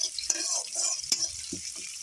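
Onion and cumin seeds sizzling in hot oil as a tempering for dal, a steady bright hiss of frying with a few soft stirring scrapes and light clinks.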